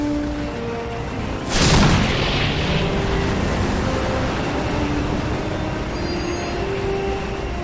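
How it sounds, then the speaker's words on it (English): A heavy explosion bursts in a Dawn of War battle, a sudden loud boom that rolls off into a long rumble beneath continuous battlefield noise. "Taking heavy fire!"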